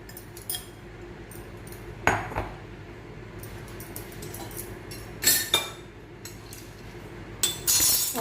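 Bowl and spoon clinks while raw mango and kabuli chickpea pickle is mixed in a bowl, a few sharp metallic taps and scrapes scattered over a quiet room background.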